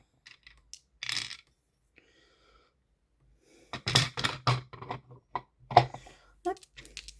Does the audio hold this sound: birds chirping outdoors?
no